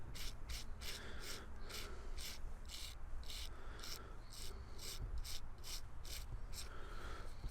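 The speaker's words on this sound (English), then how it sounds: "We're gonna clean that with a little nylon brush" A small nylon brush scrubs a dug-up WW2 relic from a forest battlefield, making steady, close, rasping strokes in a regular back-and-forth rhythm that continues without pause.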